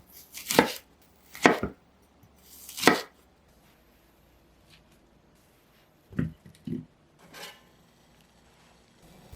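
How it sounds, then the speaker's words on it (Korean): Several sharp knife chops on a cutting board as an onion is halved and cut into six pieces, spaced apart with pauses between, followed by a few softer, quieter cuts. "양파는 반으로 자른 다음 6등분 했어요"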